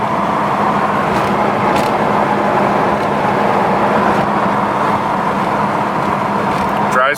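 A 1970 Dodge Charger with a 727 TorqueFlite automatic and floor-shift console cruises at highway speed, heard as a steady engine and road drone from inside the car.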